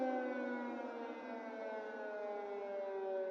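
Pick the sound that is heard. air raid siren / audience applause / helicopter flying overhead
air raid siren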